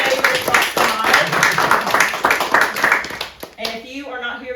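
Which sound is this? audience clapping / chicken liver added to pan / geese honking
audience clapping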